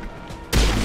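Gunfire in the Mass Effect video game, one sudden loud burst that cuts in halfway and keeps roaring without a break through the rest of the moment. Before it the background is quiet.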